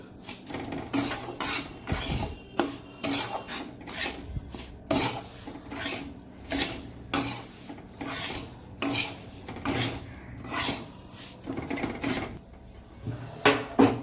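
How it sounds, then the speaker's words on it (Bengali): A spoon stirring a semolina pulao mixture with rice flour in a pan, giving repeated rasping, scraping strokes against the metal in a steady back-and-forth rhythm, close and clear with no talking. "চালের গুঁড়োটা দেওয়ার পর এটাকে একটু নাড়িয়ে নেবে, ঠিক আছে? নাড়িয়ে পুরো মিশিয়ে নেবে।"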